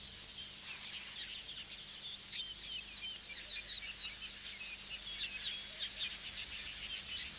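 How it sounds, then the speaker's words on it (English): A huge colony of male weaver birds calls nonstop across bushes while building nests, a dense, continuous chorus of high chirps and tweets from many birds, moderately distant and steady throughout. "Every bush is alive with birds over an area of 20 hectares."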